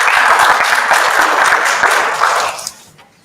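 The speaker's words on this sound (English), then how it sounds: "Let's give them a hand of applause." An audience at a community dialogue gives a loud round of applause for the speakers, dense clapping that holds steady and then fades out near the end.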